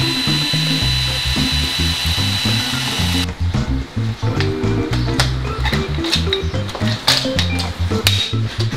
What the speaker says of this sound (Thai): ที่เหลือเราก็แค่ย้ำรีเวทนะ เจาะรูใส่รีเวทครับ